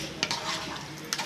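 Sugar and ghee are stirred together in a pan over heat, with a soft steady sizzle and two brief scrapes of the spoon, quiet and close.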